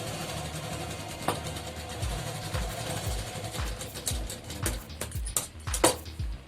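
A sewing machine runs while stitching a salwar hem, its motor giving a steady mechanical whir with rhythmic stitching clicks that quicken toward the end, close and alone.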